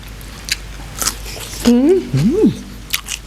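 Crisp pickled Thai vegetables crunch sharply between the teeth in a few separate bites, close and fairly loud, with a voice sounding briefly in the middle.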